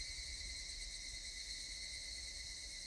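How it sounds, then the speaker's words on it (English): Cicadas shrill in a steady, dense drone that fills the air without pause, loud and continuous with no other sounds. "Only the cry of the cicadas remained, annoyingly loud."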